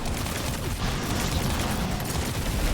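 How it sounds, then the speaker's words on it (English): Rapid, continuous gunfire from Destiny 2 rattles on, dense overlapping shots and impacts of the Explicator: Renegades encounter with a Warlock, loud and unbroken throughout. "Start shooting."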